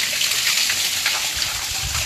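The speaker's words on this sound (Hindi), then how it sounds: "अब चला लो पानी उधर में" Water runs in a steady, hissing gush while clothes are being washed, loud and close throughout, with no talking.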